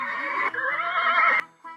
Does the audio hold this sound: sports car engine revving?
no